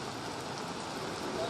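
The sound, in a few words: rain falling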